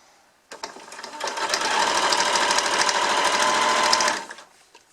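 A sewing machine stitching a fabric face mask runs in one loud, steady burst of rapid rhythmic clatter lasting about three and a half seconds, starting and stopping abruptly with quiet on either side.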